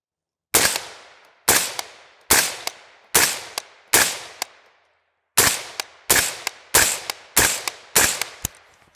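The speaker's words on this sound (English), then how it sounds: "Put a few rounds downrange." Ten sharp, evenly spaced shots from a 10-inch AR rifle fitted with a Knights Armament QDC 5.56 suppressor, each a loud crack with a brief decaying tail, in two groups of five separated by a short pause.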